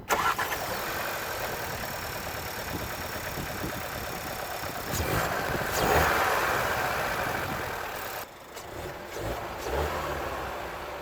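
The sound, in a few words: Seat Arona 1.5 TSI engine starting and idling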